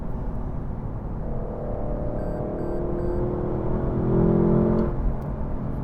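A 2025 Lexus LC500 with a V8 engine revs up, its deep engine note swelling and rising in pitch before dropping off, loud and close throughout.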